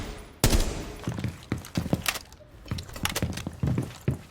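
Video game gunfire on the Kanal map: loud, close bursts of shots in an irregular rhythm, some single cracks and some rapid clusters, with no talking.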